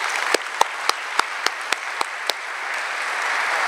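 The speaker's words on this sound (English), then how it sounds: "Let's give him a warm round of applause." Audience applause greets a guest speaker at an evening presentation, a steady wash of many hands clapping with a few sharper individual claps standing out, sustained and fairly close throughout.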